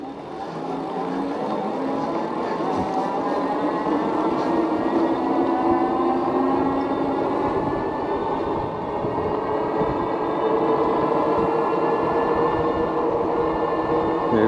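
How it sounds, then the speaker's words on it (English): A Himiway Zebra e-bike pulls away from a stop on throttle alone under a heavy rider, its motor whine climbing steadily in pitch over the whole stretch alongside rolling and wind noise, close and continuous without talking. "So let's do a little stop and take off. Just a throttle, and we'll see how quickly it takes off with me."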